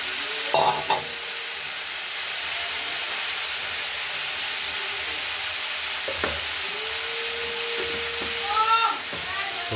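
Spice paste stirred and sautéed with sweet potato, raw banana, bitter gourd, drumstick and flat beans for a Bengali shukto: a steady close sizzle with a few scraping stirs, a louder clatter near the start and a brief faint voice partway through.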